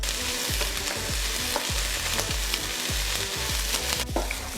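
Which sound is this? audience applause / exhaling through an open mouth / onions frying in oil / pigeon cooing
onions frying in oil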